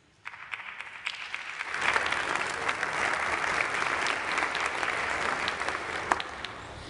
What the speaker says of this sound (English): They're clapping before we actually give a report.